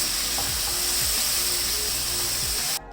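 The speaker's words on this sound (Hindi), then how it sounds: "चिकन कढ़ाई को भूनते हुए मुझे तकरीबन 5 मिनट हो गए हैं सारे मसाले डालने के बाद।" Chicken karahi with spices sizzling in a wok, a steady close frying hiss with faint stirring scrapes, cutting off abruptly near the end.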